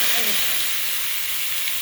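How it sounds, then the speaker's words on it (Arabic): Onion frying in hot fat in a frying pan, a loud continuous bright sizzle that stays steady and close for the whole brief moment. "يدوب كده تشويحه في الماده الدهنيه السخنه بتاعته"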